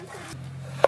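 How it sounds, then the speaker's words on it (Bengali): Tomatoes for chutney are cut into large pieces on a board in a village kitchen, a single crisp knife chop landing after a soft low hum. "আজ একটু বড় বড় কাটবো, কেননা চাটনির টমেটো।"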